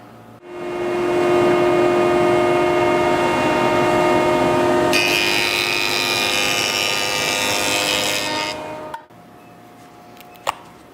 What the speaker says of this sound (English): I'm going to go ahead and joint those 2 edges so that I can get those panels glued up